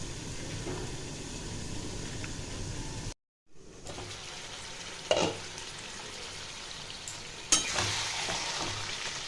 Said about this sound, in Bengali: মিডিয়াম ফ্লেমে দিয়ে এটা আমি 10 মিনিট কষাবো